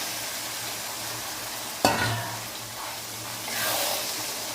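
Boiled, deboned Bombay duck fish drops into a sizzling pan of masala with a sharp knock, then a spatula stirs through it as the frying hiss swells briefly.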